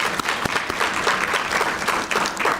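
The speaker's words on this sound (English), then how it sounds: "So, round of applause for that." Applause at a school board meeting, a moderate spread of hand claps from a seated audience filling a short, steady burst at middling distance.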